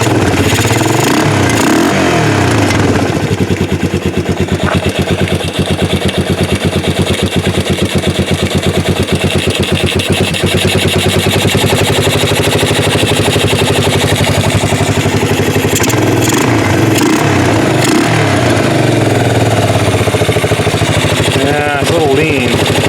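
A 1988 Yamaha Moto 4 ATV engine runs close and loud with a rapid, rattling staccato exhaust, revving and settling continuously while the machine is ridden, with brief spoken voices under the noise.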